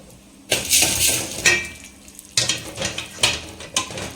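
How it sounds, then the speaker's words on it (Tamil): Urad dal and chana dal roast dry in a pan over low flame for curry leaf powder, with bursts of rattling, scraping stir strokes and a faint sizzle, loud and close between quieter pauses. "இப்போ வந்து நம்ம உளுத்தம் பருப்பு வந்து போட்டுக்கலாம் அப்படியே கூடவே வந்து கடல பருப்பும் போட்டுக்கலாம் ரெண்டத்தையும் வந்து மிக்ஸ் பண்ணிட்டு நம்ம வந்து ரோஸ்ட் பண்ணிக்கலாம்"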